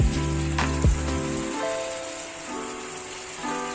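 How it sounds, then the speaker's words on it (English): Vegetables fry in a little oil in a pot over a gas flame for shrimp and chicken rice, giving a soft, steady sizzle beneath a loud tonal hum and a brief clank. "Just a little oil to fry the vegetable, guys."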